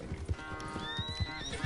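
Horse in Red Dead Redemption 2 whinnies sharply while its hooves pound in a fast gallop rhythm, loud and close against a backdrop of game music and ambience.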